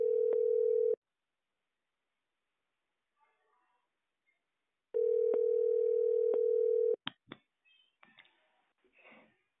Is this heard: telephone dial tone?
yes